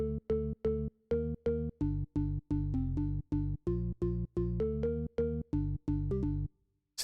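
A dry organ line from an FL Studio house track, effects switched off, plays as crisp separated chord stabs in a regular bouncing rhythm, close and clean with abrupt stops between notes and a brief pause before the end.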